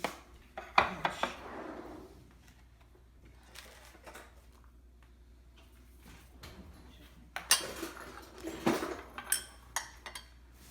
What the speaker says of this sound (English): Now, what I do is I scoop these all out and I roll them in breadcrumb.